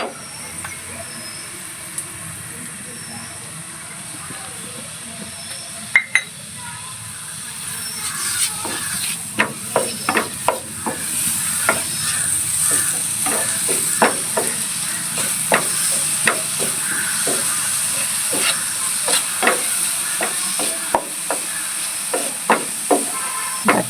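Onions with ginger, green chili and crushed garlic sauté for Thalassery chicken kalmas, giving a steady hiss that builds, then a long run of rhythmic scraping stir strokes, close and fairly loud.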